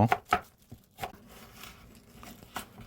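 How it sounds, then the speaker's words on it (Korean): A knife thinly julienning green onion and onion on a board gives a few quick chopping taps at the start, then sparser, softer cuts. The sound is close, and no one speaks. "대파, 양파, 파자 돌림 야채는 누가 누군지 모르게 얇게 채썰어 주고요"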